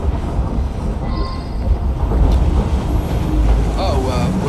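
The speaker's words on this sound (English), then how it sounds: "Well, it's a noisy train." A moving train in Assassin's Creed Syndicate rumbles in a loud, continuous low roar, with a steady rattling wash that swells slightly midway, and faint voices mixed in.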